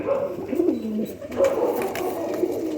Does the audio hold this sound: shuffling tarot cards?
no